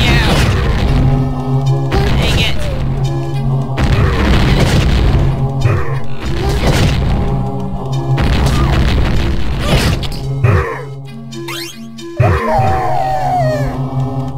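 In the video game Where They Cremate the Roadkill, bombs go off in a series of loud, heavy booms among other busy game sounds and tonal background effects.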